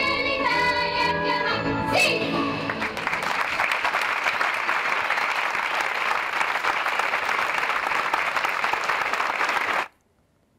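Sustained audience applause at the close of a ceremony, following a choir's performance of the Italian national anthem; the end of the music is audible at the start, then dense, steady clapping continues for several seconds before stopping abruptly.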